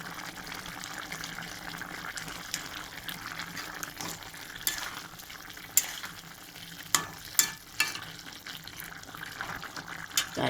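Cauliflower and potato curry simmers in a pan, a steady soft bubbling and sizzling with a few sharp clinks of a utensil against the pan.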